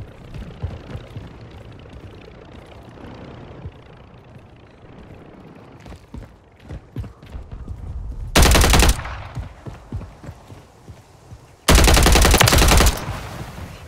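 Automatic gunfire in Call of Duty: Modern Warfare 3, two loud sustained bursts standing out against quieter battlefield ambience and scattered distant shots, the second burst lasting over a second.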